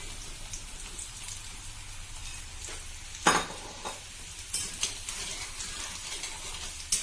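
Masala-coated peanuts deep fry in hot oil, a continuous close crackling sizzle with scattered sharp pops and scraping stirs from a slotted spoon, several louder bursts toward the middle and end, no voices.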